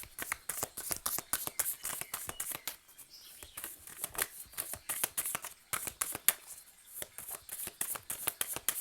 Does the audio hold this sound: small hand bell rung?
no